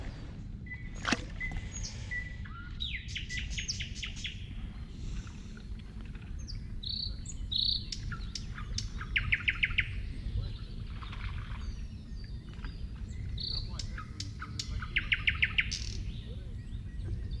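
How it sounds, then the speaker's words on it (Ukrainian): Rich, varied nightingale song with rapid trills and whistled phrases repeating over a steady low rumble of water or wind at a spring fishing spot; a voice speaks briefly. "Просто приїхати і послухати спів солов'їв вже багато чого коштує."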